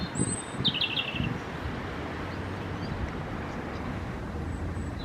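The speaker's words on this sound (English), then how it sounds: "I just had Mr. Robin appear." A robin singing outdoors in a park in February among flowering trees; a brief high, thin phrase early on, faint and distant over steady wind and background rumble, then mostly ambient noise.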